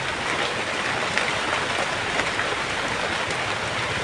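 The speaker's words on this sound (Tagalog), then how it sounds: "Malakas ng ulan." Heavy rain pours down steadily, a dense, even hiss of drops hitting surfaces with no voices.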